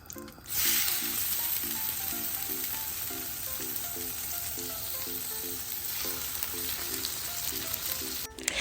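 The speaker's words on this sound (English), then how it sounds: "Now I'm gonna add my salmon to the pan." Salmon fillets sear in melted butter in a hot pan, giving a steady, loud, dense sizzle that runs continuously with faint bubbling and no talk.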